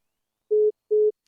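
A phone line gives off a busy tone after a phone is put down by accident on a call-in show: two identical short beeps, evenly spaced, loud and clean against silence.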